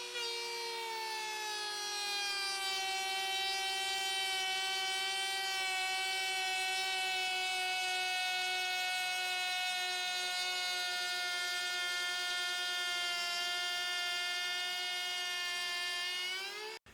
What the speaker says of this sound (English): Let's hook the vacuum up now.